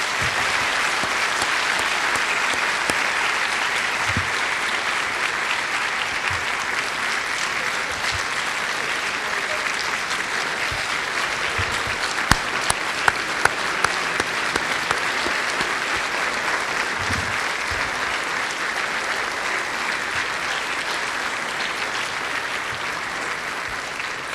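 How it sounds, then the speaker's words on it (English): A long, even round of applause from a large crowd honoring inductees at a high school Hall of Fame induction ceremony, sustained and full for the whole stretch with a few louder individual claps standing out midway. "Please join me in one more round of applause for all of our inductees today."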